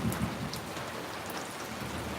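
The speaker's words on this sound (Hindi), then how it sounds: "देखियो आज बारिश केते हो रहल छै, बहुत ज्यादा" Heavy rain pours down steadily outdoors, a dense, continuous hiss of drops on surfaces, loud and close throughout with no talking.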